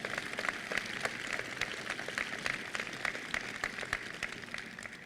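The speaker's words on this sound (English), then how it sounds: "yes, that requires a round of applause" An audience at a war memorial's grand reopening ceremony breaks into a steady round of applause, many hands clapping at moderate loudness, somewhat distant and sustained throughout.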